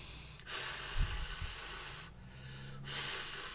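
Slow, deep breaths in a guided meditation, close and airy: two long hissing breaths separated by a quiet pause, then a third breath starting, with no talking.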